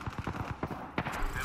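Rapid video game gunfire during a firefight, quick regular shots like an automatic weapon burst, fairly faint and brief with a muffled game voice underneath.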